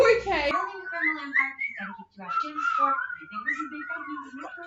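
A person whistles a wandering, wavering tune in short, uneven phrases, close and fairly clear, after a brief burst of voice at the start.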